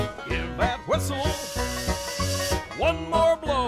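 A toy train whistle sounds in short rising tones alongside a hissing, steam-like rush, set against a musical backing for young children.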